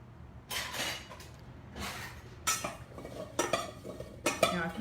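A metal spoon tossing sliced apples with about a teaspoon of cinnamon in a bowl, giving four or five separate bursts of scraping and clinking, close and fairly quiet, with short pauses between them.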